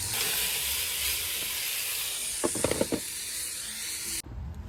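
Pressure cooker releasing a steady, loud hiss of steam during outdoor cooking, with a few brief clicks midway before the hiss cuts off abruptly near the end.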